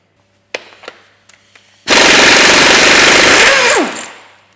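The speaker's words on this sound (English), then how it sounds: "So now we should be able to undo this bolt nice and easily." Impact-style power tool undoing a heat-softened bolt on a Ford Mondeo Mk5 2L diesel: a few sharp taps, then a loud close rattling hammer burst of about two seconds that winds down.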